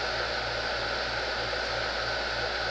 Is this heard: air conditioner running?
yes